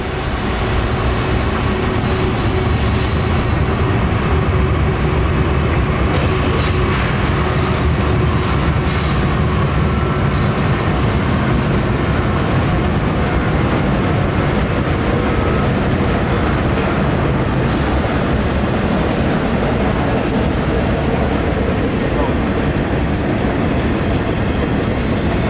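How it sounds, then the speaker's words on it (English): A CSX mixed freight train rolls past on the scenic W&A Railroad in Georgia, a steady, loud rumble of rail cars that holds for the whole stretch with faint wheel clatter and no voices. "we assumed this to be Q648, a daily mixed freight train coming out of Waycross, Georgia, headed up to Chicago, Illinois"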